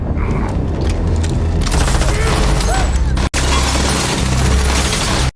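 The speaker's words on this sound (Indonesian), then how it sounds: "pada akhirnya mereka memilih untuk saling melepas tembakan" Gunfire breaks out between characters in the 2026 action film Steal, with rapid cracking shots, metallic clatter and booming impacts over a dense, loud soundtrack, cut off abruptly twice.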